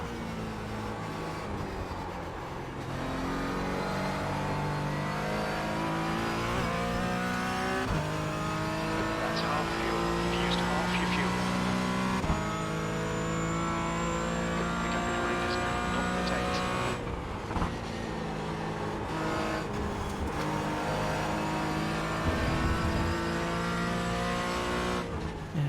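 Race cars roaring continuously in the iRacing sim, engines droning and shifting pitch as the pack runs close, with some tire noise, loud and steady throughout.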